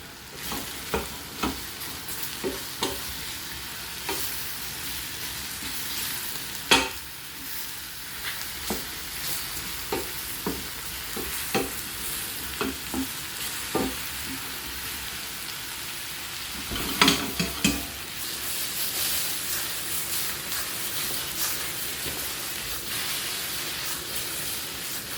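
Mushrooms sautéed with rosemary sizzle steadily in a hot pan for a long stretch, with scattered sharp clicks and scrapes from stirring and a couple of louder bursts of spitting.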